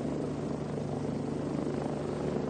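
A rescue helicopter hovers at a ski resort in Haute-Savoie, its rotor and engine producing a loud, continuous droning roar with steady low thumping, close by and unbroken by speech.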